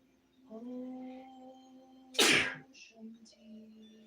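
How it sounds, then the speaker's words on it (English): A single loud, sharp sneeze bursts out after a stretch of voiced breathing, followed by a few soft breaths and murmurs. "I'm going to sneeze."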